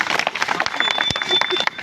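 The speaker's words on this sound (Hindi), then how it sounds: "हम चाहेंगे एक बार जोरदार तालियों से इनका सम्मान करें" Brief burst of crowd applause at a public gathering honouring a guest, dense clapping from many hands close by and fairly loud, lasting under two seconds.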